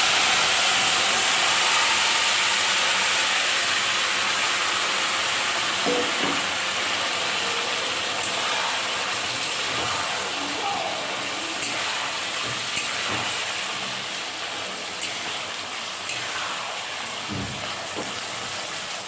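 Mutton with whole garam masala spices sizzling in hot mustard oil, a steady loud hiss and crackle with occasional pops and stirring clatter, continuous for the whole stretch.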